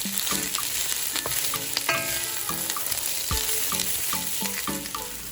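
Onions sautéing in a pan for a vegan egg roll bowl: a steady hiss of frying under a rhythmic series of utensil scrapes and taps against the pan.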